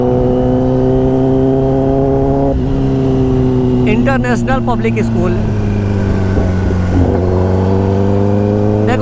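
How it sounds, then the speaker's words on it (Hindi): Traffic roars along the Darbhanga highway with a steady, close engine drone whose pitch slides as vehicles pass. Someone talks over it, and a horn-like tonal burst cuts in briefly midway. "देखो भाई ये है दरभंगा वाला हाईवे, इतना ट्रैफिक है भाई"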